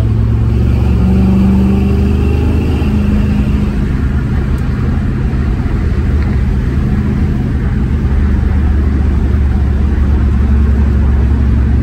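A car fitted with a 727 TorqueFlite automatic transmission drives along with its engine droning loud and steady close by, a broad rumble that rises slightly as it revs, with no speech heard.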